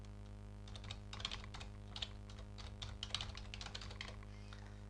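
Typing on a computer keyboard while filling in email fields, quick light clicks in irregular bursts over a steady low electrical hum, fairly faint and close.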